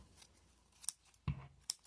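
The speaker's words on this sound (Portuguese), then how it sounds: "deixa eu cortar aqui um pedacinho do meu tecido" Scissors snip a small piece of sewing fabric in a few quick, crisp cuts, close and fairly quiet, with brief pauses between them.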